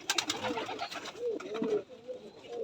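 A young giribaj pigeon coos at a pigeon farm in Rajshahi, a few soft rolling calls up close after a brief noisy start.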